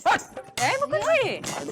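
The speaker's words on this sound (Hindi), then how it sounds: "कुत्ते इकट्ठे हो गए" Dogs bark and yip in quick, overlapping bursts, close and lively, with a voice mixed in among the barking.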